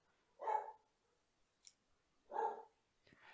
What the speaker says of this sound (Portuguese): Para de latir que o pessoal não tá entendendo que você tá latindo.